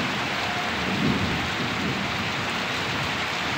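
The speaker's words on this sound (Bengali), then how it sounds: "এই যে বৃষ্টির জলগুলো পড়ছে" Rain falling steadily on tree leaves, a dense, even hiss close by with no pauses, carrying on for a few seconds.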